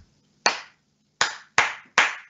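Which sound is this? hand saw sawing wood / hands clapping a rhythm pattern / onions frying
hands clapping a rhythm pattern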